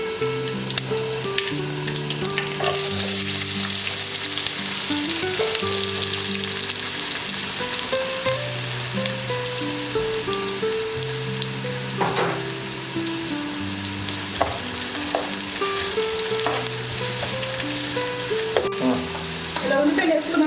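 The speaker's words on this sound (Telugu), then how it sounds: "వేసుకున్న తాలింపులు వేగాక ఉల్లిపాయలు వేసుకోండి." Onions frying in hot oil for a South Indian tempering, a constant loud sizzle with occasional stirring scrapes, heard under soft background music for about twenty seconds.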